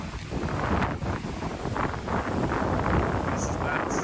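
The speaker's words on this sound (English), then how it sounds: "Man, it's getting windy." Strong gusting wind buffets the microphone on a Florida birding outing, with a steady roar and rushing surges throughout.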